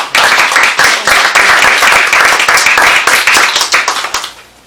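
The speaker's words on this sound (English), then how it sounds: "I just want to give you guys a round of applause for service" Applause at a community mental health board meeting: a small audience claps steadily for several seconds, close and fairly loud, with dense overlapping hand claps that taper off at the end.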